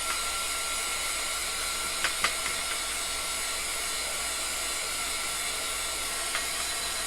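A hair dryer blows steadily and quietly, drying chalk paste on a Dollar Tree coffee cup, with a couple of faint clicks and no talk.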